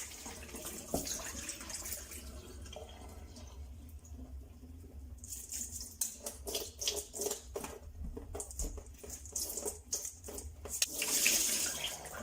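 Water runs from a tap and patters into a sink, with bursts of splashing and rattling as quinoa is swished under the stream.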